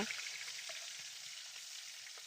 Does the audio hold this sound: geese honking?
no